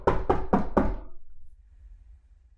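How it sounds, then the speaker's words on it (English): Four sharp knocks on a door in rapid succession, close and loud, followed by quiet low room tone. "I was disturbed by a knock at the door"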